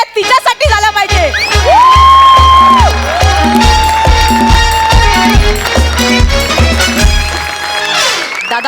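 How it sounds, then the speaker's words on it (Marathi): Studio audience at a Marathi comedy show cheering and clapping for a contestant, a loud crowd roar under a pounding rhythmic music beat with whoops rising over it. "एकदा जोरदार टाळ्या तिच्यासाठी झाल्या पाहिजे"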